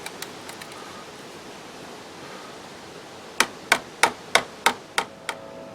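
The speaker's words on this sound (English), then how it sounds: "Now I'm going to take the pad caliper bolt off, and this one is a 12mm socket." A 12mm socket working the brake caliper bolt on the rear of a 2015 Honda CBR650F: faint early ticks, then seven sharp, evenly spaced metallic clicks, close and loud, fading toward the end.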